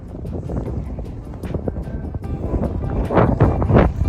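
Gusty wind buffets the microphone at a mountain summit in Perito Moreno National Park, Argentina, a steady low rumble that swells louder toward the end, with faint voices nearby.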